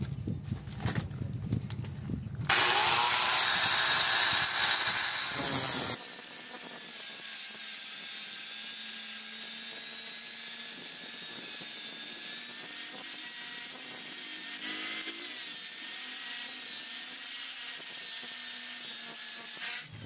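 Angle grinder cutting into a damaged lug nut on a Hyundai Accent wheel stud, a loud continuous high-pitched whine with shifting pitch that runs the whole stretch after an initial harsh burst.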